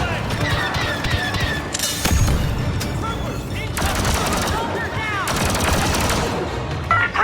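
Rapid blaster fire in a Star Wars battle, dense overlapping volleys and zaps at close range, continuous with bursts of louder shots and shouting voices in the mix.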